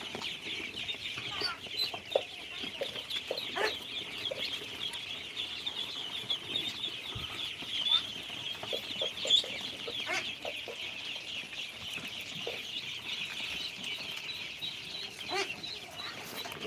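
Chinese and local ducks calling in a farm setting, with scattered quacks and clucks coming from near and far over a faint, continuous background murmur.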